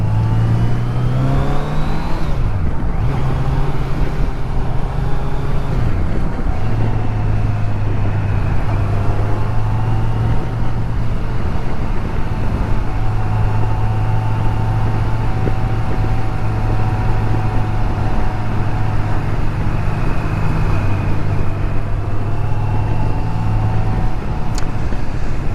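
A 2019 Kawasaki Z900 motorcycle engine drones steadily while riding on the road, loud and close throughout, its pitch shifting as the rider rolls on and off the throttle, with constant wind rush beneath.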